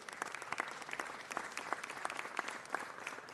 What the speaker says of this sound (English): I want to give you a big round of applause to you and your fabulous team.